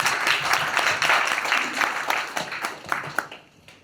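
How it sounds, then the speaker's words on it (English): Audience applause for Ran San at the Signature VIP Gala Night 2025, a dense wash of clapping from a crowd that thins and fades toward the end, with a few sharper individual claps standing out near the close. "Round of applause for Ran San."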